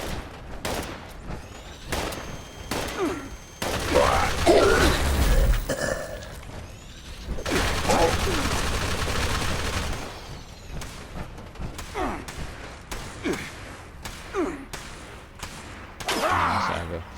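Rapid bursts from a Shredder minigun in Fallout 76 rattle in short, repeated volleys with pauses between, loud and close, mixed with impact thumps and enemy noise, and a voice talking at times.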